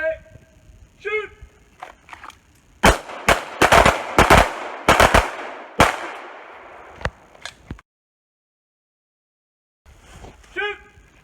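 Pistol shots on a combat shooting course: about a dozen sharp, loud reports in quick irregular bursts, with a voice calling commands before and after the firing.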